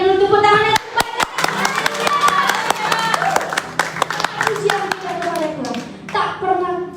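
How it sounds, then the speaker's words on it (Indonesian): A church congregation at a Sunday service in Indonesia claps in sharp, fairly regular beats under singing and talk, close and loud. "Berikan dulu tepuk tangan."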